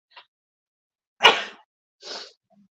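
A close, loud sneeze bursts out, followed by a second smaller one, with a faint breathy intake just before and no talking.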